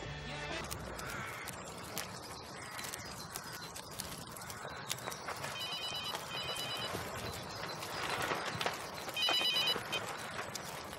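A telephone rings in short, repeated electronic bursts, moderately loud against busy background noise, with no talk over it.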